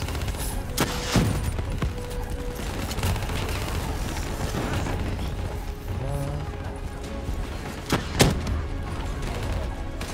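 Grenade blasts and gunfire in the PC game Call of Duty: Black Ops 3, a dense run of shots and booms with sharp louder bursts near the end, under voices talking.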